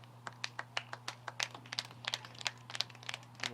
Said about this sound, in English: Round of applause by the home crowd